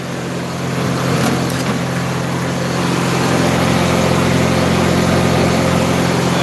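A generator welder's engine idles loud and close, a steady low droning hum that holds even from start to finish with no other sounds.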